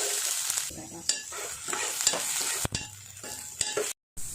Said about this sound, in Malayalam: ഇതാ സവാള ഇഞ്ചി പച്ചമുളകൊക്കെ കൂടി ചെറുതാക്കി അരിഞ്ഞ് വെച്ചതുണ്ട് അത് ഇട്ട് കൊടുക്കാം